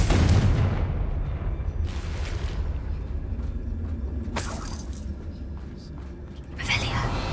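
A Confringo blasting spell in Hogwarts Legacy erupts in booming explosions over a dense, rumbling battle bed, with sharp bright blasts bursting out near the middle and the end, loud and close, while a voice talks throughout.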